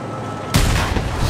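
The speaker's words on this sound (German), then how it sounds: "Ich muss dann mit der Schrotflinte dran, ne?" A single heavy shotgun blast in the Mad Max video game hits sharply after a short quiet stretch, then trails into a long, dense rumbling echo with no voices over it.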